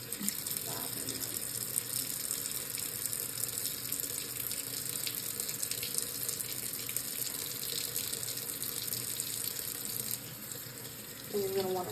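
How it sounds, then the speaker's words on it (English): Tap water runs continuously into a sink while soap is rinsed off hands. The broad, steady rush is close and loud and ends with a brief shift near the end. "Make sure you rinse all the soap off your hands."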